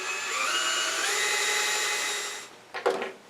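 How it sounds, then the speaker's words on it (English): A power drill whirs steadily at close range for a couple of seconds, drilling a centered hole in a sea urchin shell ornament, then winds down, followed by a few brief handling knocks. "we're just simply going to drill a hole that we think is centered"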